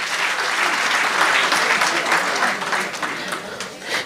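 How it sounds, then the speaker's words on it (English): A school summit audience breaks into a sustained round of applause, dense steady clapping from many hands that holds loud for about four seconds before tapering slightly at the end. "Let's give them a round of applause."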